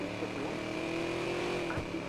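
A car engine in the video game Watch Dogs hums with a steady mid-pitched drone and slight rising pitch, heard up close beneath someone talking.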